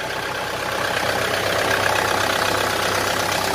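Steady idle from a second-hand machine up for sale, its engine droning evenly with a light knocking rhythm, swelling slightly louder after the first second and holding without any talk.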